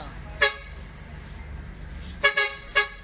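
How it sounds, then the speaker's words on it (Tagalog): A bus horn honks, one short toot, then after a pause a quick double toot followed by another, sharp and fairly close over faint traffic hum. "Ilang beses nang bumusina ang bus"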